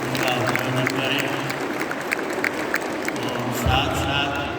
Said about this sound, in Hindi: मैं चाहूँगा आप सब उन बच्चियों के लिए जोरदार तालियों से उनका अभिनंदन करें।